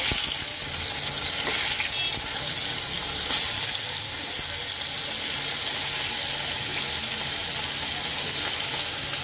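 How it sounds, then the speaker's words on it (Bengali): Steady crackling sizzle of climbing perch frying in hot oil, continuous and close, with faint clinks and no talking. "মাছ ভাজার জন্য বসিয়ে দিয়েছিলাম তেলও গরম হয়ে গেছে। এখন আমি মাছগুলো ভেজে নেব।"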